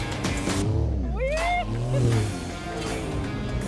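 A Porsche 911 Dakar drives on sand, its engine note rising and falling with revs close by while a voice talks over it.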